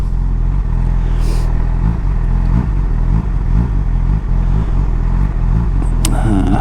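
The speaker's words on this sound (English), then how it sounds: "Oh, that was a bit of an aggressive throttle." Honda CB1000R motorcycle under an aggressive blip of throttle, a close, rough low engine rumble with uneven pulses and clatter throughout, fairly loud with little talk.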